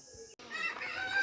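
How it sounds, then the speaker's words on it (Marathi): Roosters crow in the morning in a village in Konkan, with one loud, close crow rising after a brief pause, set against quiet rural background sound. "सकाळ सकाळी बघा मस्त कोंबड्या आरवत आहेत"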